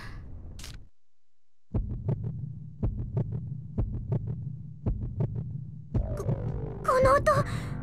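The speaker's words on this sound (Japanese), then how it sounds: "暗黒竜の鼓動。" Deep, heavy heartbeat of the dark dragon in the video game Tokyo Mirage Sessions FE, pulsing in regular thumps after a brief silence, with a swelling rumble and bright tones rising at the end.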